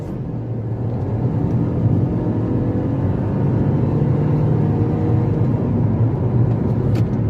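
A 2022 Kia Stonic GT Line accelerates hard from 0 to 100 km/h. Heard from inside, a steady engine drone and road roar hold throughout, with no talking.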